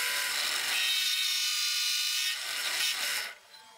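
A power drill bores a hole in the back of a wooden heart-shaped holder, giving a steady high whirring grind for about three seconds that then tapers off and stops.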